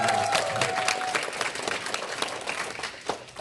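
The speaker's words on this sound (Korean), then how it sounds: "이쯤에서 박수 한번 드리겠습니다." Seminar audience applauding, a dense steady patter of many hands filling the room for about three seconds, with a brief held tone near the start.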